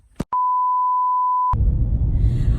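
A single steady electronic car seatbelt warning chime holds for over a second after a short click, then cuts off as a low engine rumble takes over.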